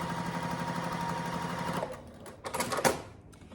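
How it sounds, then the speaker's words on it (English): Close, steady whirring of a sewing machine stitching quilt fabric diagonally from corner to corner, running continuously before stopping, followed by a few scattered clicks and handling sounds. "I'm gonna sew this from corner to corner."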